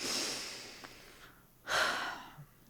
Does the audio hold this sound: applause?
no